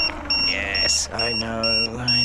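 Repeated short electronic beeps from a Fly Wing Bell 206 Jet Ranger scale RC helicopter, several evenly spaced bleeps close by over a steady hum, with a person talking through them.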